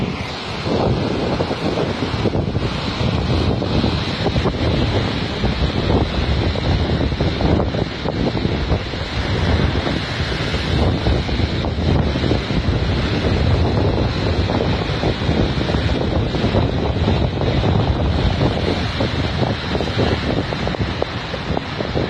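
Sea waves wash onto the shore at a fishing spot by the sea in Morocco while strong wind buffets the microphone, a steady loud roar with no talk.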